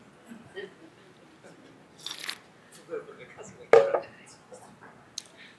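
A drinking-water bottle is handled during a church forum testimony: sporadic close crinkles, clicks and a sharper crackle, with pauses between them and a faint murmur of voices underneath.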